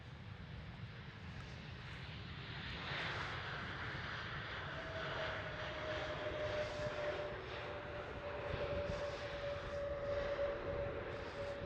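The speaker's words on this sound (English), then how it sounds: "So this was ITA Airbus A320 Neo." An ITA Airbus A320neo passing at Schiphol airport, its engine roar swelling and holding loud with a steady whine, heard without talk.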